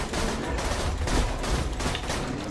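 Rapid gunfire from a first-person shooter game, Borderlands 2, fills the moment with dense, continuous bursts of shots and explosions, loud and steady throughout with no talk.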